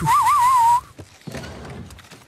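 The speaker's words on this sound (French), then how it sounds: "Ça m'a permis en fait de découvrir mes talents en sifflage." A single person whistles a wavering, melodic tune in The Last of Us Part II, loud and clear for under a second, then cuts off into quiet footsteps and soft background noise.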